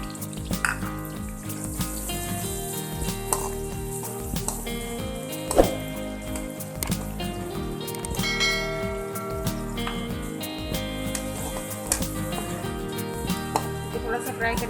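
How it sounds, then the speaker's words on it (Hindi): Garlic frying with chopped bhindi (okra) in a pan, a continuous soft sizzle under clinks and faint clatter of stirring, moderately close and fairly quiet throughout. "थोड़ा सा फ्राई करेंगे।"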